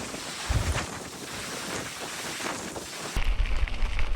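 Strong Patagonian wind buffets the microphone during a gravel bike ride near El Chaltén, a loud continuous roar with heavy low rumbling gusts that swell sharply toward the end.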